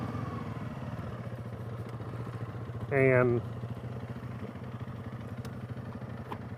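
A Yamaha TW200 dual sport motorcycle idles close by with a steady, low, even engine hum throughout; a single voice speaks briefly over it partway through.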